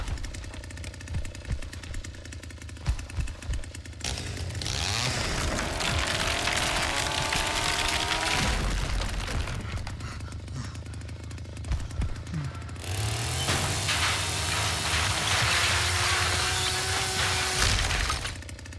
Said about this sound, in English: Chainsaw sounds fine to me.